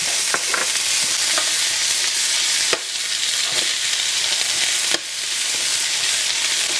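Vegetables simmer in a pan with a steady, close sizzle, broken by a few light clicks of stirring.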